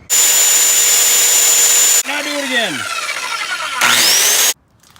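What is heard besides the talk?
skill saw (circular saw) cutting wood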